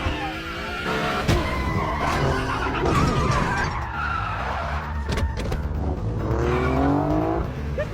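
A car revs hard and drives off with squealing, skidding tires, engine and screeching overlapping in bursts of acceleration, loud and close with no talking.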